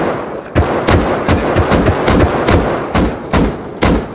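Rapid bursts of AK rifle fire in the survival game Rust, a string of sharp, loud shots in quick uneven succession with short gaps between volleys.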